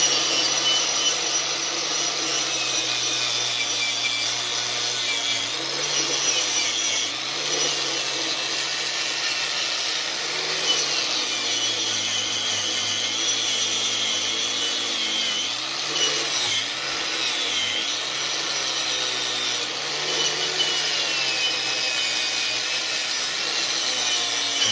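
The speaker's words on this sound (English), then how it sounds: "Let's go ahead and wire wheel the top of this." A wire wheel scrubs steadily across the top of a metal exhaust part from a 1943 Gravely Model L tractor. It makes a continuous, loud, gritty brushing whine with slight variations in pressure, and nobody speaks over it.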